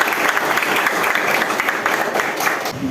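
An audience at a teacher-certification presentation applauds together, dense sustained clapping that fills the whole moment at close range, with faint voices mixed underneath.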